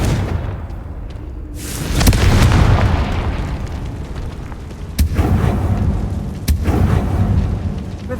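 The Confringo explosive spell in Hogwarts Legacy goes off as booming blasts, one big eruption early on and sharper bursts later, loud over a rumbling background.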